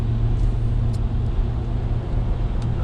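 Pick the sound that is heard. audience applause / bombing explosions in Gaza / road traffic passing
road traffic passing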